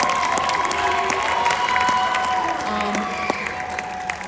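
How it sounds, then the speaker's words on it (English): Audience applause and cheering for the performers at a spring jazz concert, a steady dense roar of many hands clapping with shouts mixed in, sustained and fairly loud throughout. "one more big round of applause for all the performers tonight"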